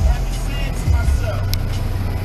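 A car engine idles steadily with a low rumble during a police traffic stop, a constant drone under brief bursts of a raised voice.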